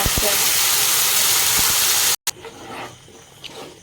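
Masala spices sizzle loudly in hot oil for about two seconds as a bright, dense hiss, then drop to a softer, uneven frying crackle with a few small pops, while a voice speaks.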